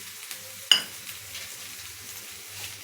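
An onion and spice mixture with pink salt frying in a pan while being stirred, with a soft, steady sizzle, one sharp metallic clink of the spoon early on, and faint scraping afterward.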